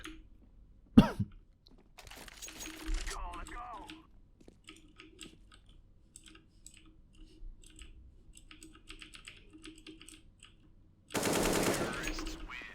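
Bursts of gunfire from an online 1v1 shooter video game ring out sparsely: one sharp shot early, scattered lighter pops, and a long dense burst near the end, with quiet speech and keyboard clicks in between.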